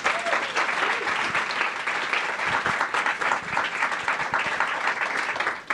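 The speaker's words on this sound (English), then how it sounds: "and so just a round of applause" Audience applause at a pitch event held at Google's New York office, a dense, sustained clapping from a crowd, loud and continuous for several seconds before tapering at the end.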